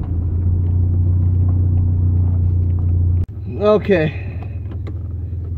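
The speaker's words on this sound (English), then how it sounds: "Hopefully it recorded all of that, but we are on our first test drive" A car with a low-hanging downpipe on its first test drive, a steady loud low engine and road rumble that drops out with a sudden thump, then continues more quietly as a person speaks briefly.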